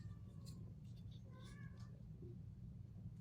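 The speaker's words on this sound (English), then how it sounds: "my cat's going crazy" A cat meows intermittently in the background of a room, faint and partly buried under a steady low hum, with a couple of short rising calls in the middle.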